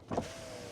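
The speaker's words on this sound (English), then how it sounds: "So if I open the window" A short motorized whir of a power window opening inside a Range Rover Sport SE Dynamic, rising briefly then fading into a quiet steady hum.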